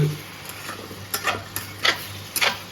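Spices being stirred in a cooking pot for jackfruit curry over a faint sizzle, a handful of soft, scraping strokes of the spoon coming at irregular intervals, close and fairly quiet.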